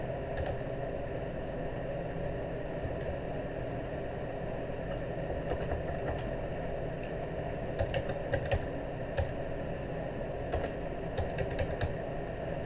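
Soft, irregular keyboard tapping over a steady hum of background noise, with a few quick bursts of keystrokes clustered near the end.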